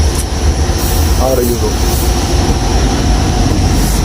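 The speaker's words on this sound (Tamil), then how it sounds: "ட்ரெயின் வேறு வந்துட்டு" A train arriving at a busy station, a loud steady rumble with a brief rising squeal of wheels on rails, while people talk over the noise.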